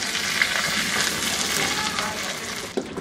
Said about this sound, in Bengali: আমি কিন্তু হাই আর মিডিয়ামের মাঝামাঝি ভাজতেছিলাম পটলগুলোকে, যাতে জলদি বাদামি হয় আর কি